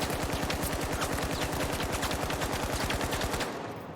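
An AKM rifle fires on full auto in the video game The Finals, a fast, even burst of loud, close shots lasting several seconds before it stops abruptly.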